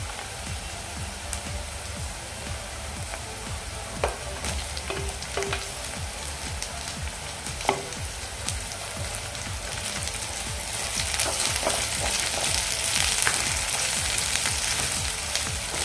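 Tomatoes fry in a pan for a bombil masala, giving a loud, steady, close sizzle that swells slightly toward the end, with a few stirring clicks and no voice.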